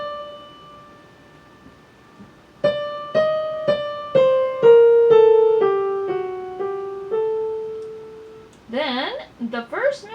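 Piano plays the third measure of a piece: a slowly descending run of about a dozen distinct notes, each ringing into the next, followed by a voice speaking.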